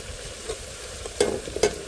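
Tomato paste and chili flakes are stirred in a hot pan, sizzling softly and steadily while a spoon scrapes through twice in sharp bursts near the end.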